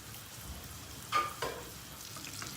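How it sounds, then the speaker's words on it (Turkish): A steady low sizzle of vermicelli frying in butter in a pan, with two brief louder scraping stirs near the middle. "Şehriye iyice kızartacağız."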